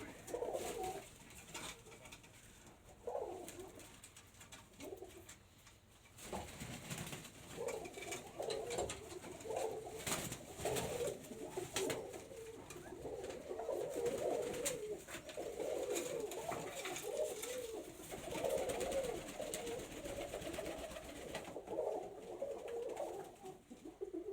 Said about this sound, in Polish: Tak wyglądają gołąbki